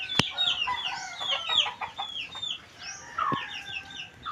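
Chickens waiting to be fed cluck and squawk close by in a run of short, varied calls, with a sharp knock near the start and another bump later.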